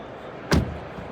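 A 2025 Renault 5 car door shuts with a single solid thud at close range, a short sharp slam followed by quiet background.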